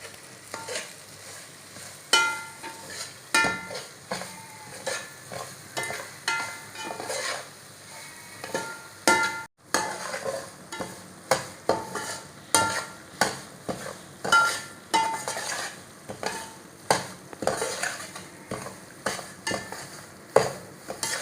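Steady scraping and stirring of a spoon through semolina roasting in sizzling oil for halwa, with soft metallic clinks against the pan, close and continuous.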